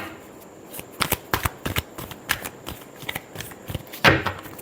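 Tarot cards shuffled by hand in a quick series of crisp riffling snaps and flutters, close and uneven in rhythm, with a louder burst near the end.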